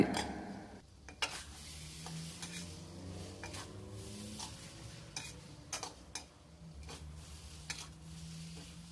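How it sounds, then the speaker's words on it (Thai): Glass noodles are stir-fried with egg, sliced scallion and celery in a pan: repeated spatula scrapes and taps over a low, steady sizzle. "ผัดไปจนสุกได้ที่ชิมรสชาติถูกใจ"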